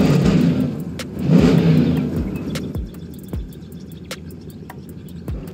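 In the SnowRunner video game, a Rezvani Tank scout vehicle's engine revs and surges while driving, rising and falling with sharp clicks and knocks over a steady insect-like whine in the background.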